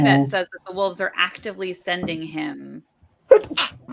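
Conversational talk stops and, after a short pause, one sharp sneeze is heard nearby.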